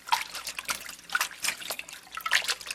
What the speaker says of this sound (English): I rinsed out the basin and put fresh lukewarm water in there, and now I'm just putting the scarf back in again